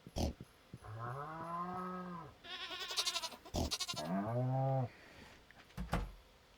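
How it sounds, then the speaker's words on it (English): Pigs in the farming game Stardew Valley give two drawn-out, bleating, moo-like calls, each about a second long. Sharp clicks and brief bursts fall between and after the calls. "What kind of pig makes that noise?"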